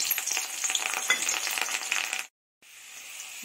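Garlic dropped into hot oil in a wok-style kadhai for an okra curry, a loud close crackling sizzle for a couple of seconds, then a brief silent break before the frying resumes more softly.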